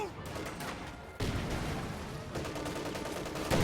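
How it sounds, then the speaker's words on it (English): A grenade goes off inside a house in a World War II strategy game, one abrupt loud blast amid a steady din of rifle and machine-gun fire that runs throughout. "Grenade into the house."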